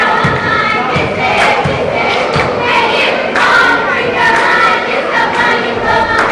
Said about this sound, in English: if you can hear the cheer, they're saying, you so fine, you blow my mind